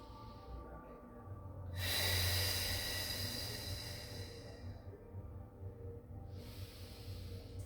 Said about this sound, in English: Four more breaths.